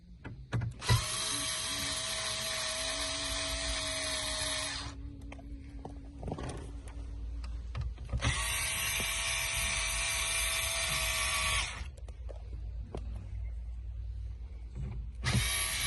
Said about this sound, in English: Next thing you need is a T25 to take the frame off. It's 4 screws